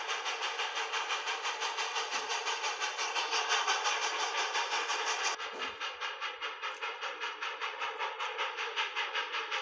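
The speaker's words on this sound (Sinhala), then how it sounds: "අපි දැන් කතා කරන්නේ ලංකාවේ දිගම කෝච්චිය ගැන. ඔන්න එනවා කෝච්චිය." A long train in Sri Lanka rolls steadily past at close range, its wagons producing a continuous rhythmic clatter that surges loudly with no voices, one brief thump near the middle.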